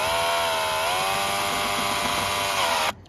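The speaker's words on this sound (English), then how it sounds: "kind of gently put that screw in there, turn on your actual drill." Cordless drill driving a small screw into a Pylex deck sunblind board whines steadily at high speed for about three seconds, pitch dipping slightly under load, then stops abruptly.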